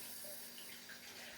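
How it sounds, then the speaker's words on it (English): Tap water runs steadily into a sink as hands are washed during home cooking, a continuous hiss with no speech. "So I'm going to wash my hands."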